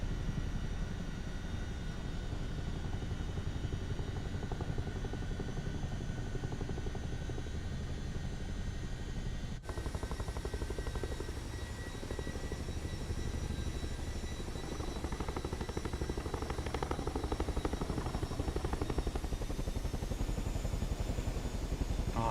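Aircraft engine drones steadily in Microsoft Flight Simulator 2024 on Xbox, a continuous loud propeller-like hum with shifting tone partway through, heard alone with no talking.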